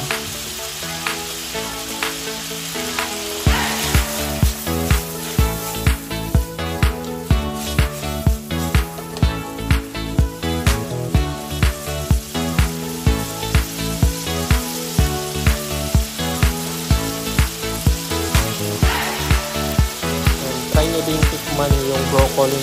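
Mixed vegetables with broccoli stir-fry in a pan, a continuous crackling sizzle partly buried under loud rhythmic background music with a steady beat.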